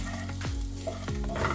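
Fennel seeds and thin slices of ginger fry in a pan with a steady close sizzle, with two sweeping scrape-like swells as the pan contents are moved, no talking.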